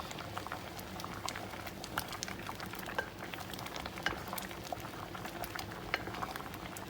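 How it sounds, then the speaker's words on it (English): Dhal curry simmers in a pot with steady bubbling and popping, a continuous soft boil with scattered sharper pops, fairly close and no talk. "We'll stir all this and let it cook for another"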